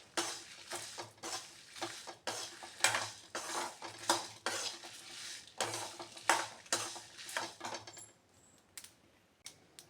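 Dry red chillies being dry-roasted in a pan for homemade vangi bath powder, stirred with repeated clattering scrapes and clinks of metal on the pan in an irregular rhythm, close and moderately loud, with a faint sizzle beneath.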